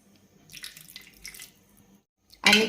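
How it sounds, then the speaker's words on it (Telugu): Water is poured into a tomato and black pepper rasam mixture of tamarind pulp and turmeric, with soft splashing early on and a short, loud gush at the end. "దీంట్లో సరిపోయేంత వాటర్ని యాడ్ చేసుకొని"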